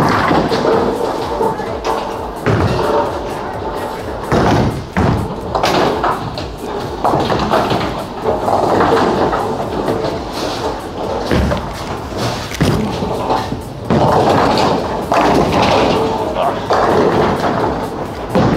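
A 900 Global Harsh Reality Pearl bowling ball thrown down the lane: loud, repeated heavy thuds and crashing impacts in uneven bursts over a busy alley background.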